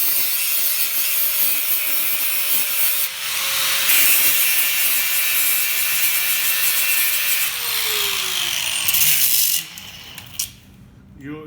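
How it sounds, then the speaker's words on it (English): An angle grinder grinding the side of a wiper linkage bushing on a 1970 Cuda, a steady loud high-pitched whine that dips in pitch near the end before cutting off. "take a grinder and grind the side of the bushing"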